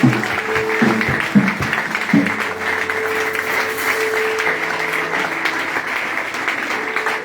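An audience applauds at a church anniversary celebrating ten years of a ministry, a loud sustained clapping that starts with a few sharper claps and then holds steady throughout.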